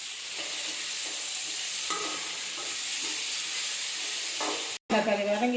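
Onions and tomatoes sautéing in a pan for a bottle gourd mash, a steady sizzle and hiss with occasional stirring scrapes, followed by a brief pause and a voice speaking over the cooking.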